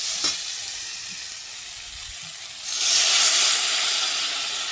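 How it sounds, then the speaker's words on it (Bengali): Water poured into a hot pan of fried spice paste for a pointed gourd curry sets off a loud, rushing sizzle and steam hiss partway through. Quieter frying and stirring come before it. "এটা ভাজা হয়ে গেছে, এবার জল দিয়ে দেবো"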